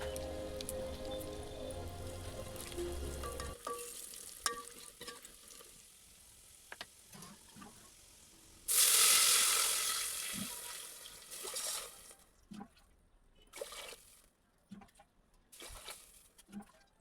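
Asafoetida tempering sizzles and crackles in a pan, followed by a sudden loud rush of water poured in to boil for shengole, then quieter bubbling and scattered clinks.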